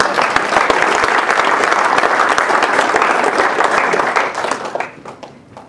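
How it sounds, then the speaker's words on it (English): Audience applause at a corporate mentalist show, a full room clapping loudly and steadily for about five seconds before fading out quickly. "Everybody give him a round of applause."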